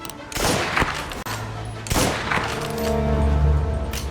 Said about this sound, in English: Just infinite ammo, just shooting a bunch of people.